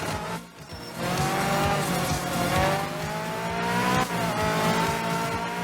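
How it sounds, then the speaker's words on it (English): A car in a rally video game slides through a stage with lift-off oversteer, its engine revving loudly with tire squeal and sharp exhaust backfire pops, close and continuous. "And when you do, you can hear all that backfire."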